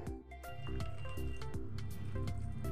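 Raw jackfruit mixed with cumin, bay leaf, whole garam masala, yogurt, oils and ghee is squished and mashed by hand, giving repeated wet squelching pulses at a steady rhythm, close and fairly loud with no talking.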